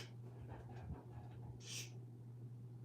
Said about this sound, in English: I might kick my dog out because his breathing is giving me anxiety